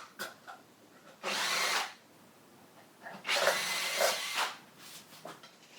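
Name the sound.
drill clear-drilling rivet holes in aircraft seat metal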